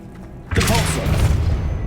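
Depulso force spell cast in Hogwarts Legacy, a sudden loud whooshing burst that hits abruptly after a quiet moment, then fades into a rumbling, crackling tail.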